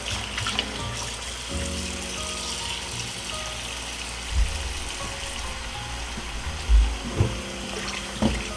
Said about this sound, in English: I'm putting on a little bit more fresh water on it, then rinse it off one more time